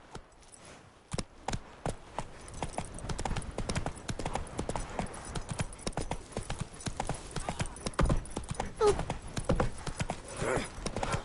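Horse hooves clip-clop steadily on the ground in The Witcher game, a dense, fairly close run of sharp hoofbeats lasting throughout, with brief game voices mixed in.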